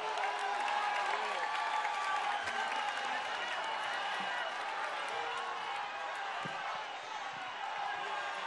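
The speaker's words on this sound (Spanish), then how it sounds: "Por lo que les pedimos un respetuoso aplauso." An audience at an official ceremony in Colima, Mexico, during the president's visit, applauds the state governor with sustained, dense clapping and crowd murmur, and an announcer's voice carries over it.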